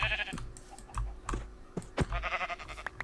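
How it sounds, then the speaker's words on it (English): Sheep in the block-building game Minecraft give a few short, loud bleats in quick succession over a clicky background of typing-like taps, with no talk. "like any normal game of Minecraft, you want to kill the sheep"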